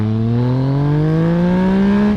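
A 2014 Yamaha MT-09 motorcycle pulls away and accelerates, its engine note rising smoothly and loudly in pitch, close up and with no voices.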